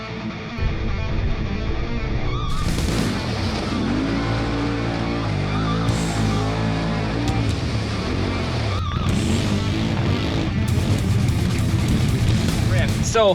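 A CFMOTO Z-Force 950 HO EX side-by-side drives off-road, its engine droning loudly and steadily while revving up and down through gear changes, with people talking over it at times.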